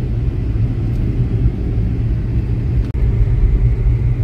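Steady low rumble of a car cruising along a good paved road near Tajpur, loud and continuous from inside the vehicle, with no talk.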